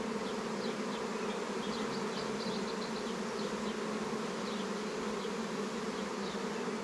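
A dense swarm of honeybees hums steadily inside and around a nuc box, a continuous close buzz with individual bees whining past, no speech.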